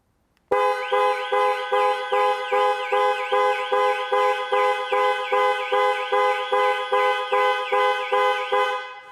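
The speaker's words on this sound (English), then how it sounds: "press 3 times in 3 seconds and the horn will sound and the hazard lights will flash" A 2021 Jaguar I-PACE panic alarm blares close by, sounding its horn in a rapid, steady repeating pattern of pulses that continues throughout.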